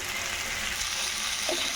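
Vegetarian ash gourd slices fry in a pan with a steady, hissing sizzle that runs unbroken throughout, close and moderately loud, with a faint clink near the end.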